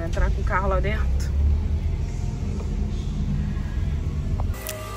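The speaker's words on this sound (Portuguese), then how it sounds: "Vamos entrar com o carro lá dentro." A car rolls slowly into a new supermarket, its engine a low steady rumble heard from inside the cabin while a person speaks over it at the start and brief other sounds follow.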